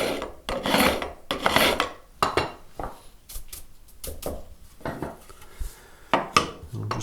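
A file rasps along the frets of a Telecaster guitar neck, putting a bevel on the fret ends. The close, gritty strokes come in a repeating back-and-forth rhythm with brief pauses between passes.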